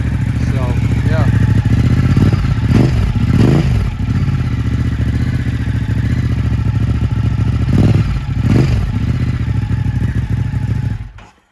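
A Ducati Hypermotard 939 SP motorcycle with a full titanium exhaust idles loudly and steadily up close, blipped a few times into short revs, then cuts off at the end.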